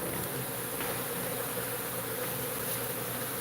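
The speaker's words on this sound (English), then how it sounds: "there's enough bees here to really put a hurt on somebody, that's for sure" Bees swarm around a beehive with a steady, dense buzzing drone that fills the whole stretch at close range, alone without any talk.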